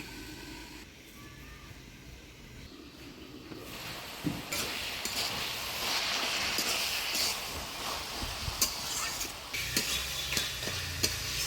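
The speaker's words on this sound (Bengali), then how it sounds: "কুয়াশটা ভালো করে নাড়াচাড়া করে নিলাম।" Squash ghonto, a Bengali curry, stirred in a pan in a village kitchen: soft scraping and gentle sizzle build after a quiet start, with irregular clinks and taps of the spoon against the pan through the second half.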